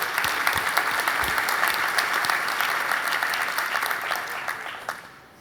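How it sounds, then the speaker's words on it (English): Conference audience at a keynote applauding the event's sponsors, a dense, steady round of clapping from a large crowd that fades out toward the end. "to the sponsors, one last round of applause"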